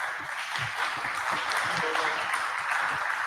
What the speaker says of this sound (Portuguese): Salva de palmas para a equipe.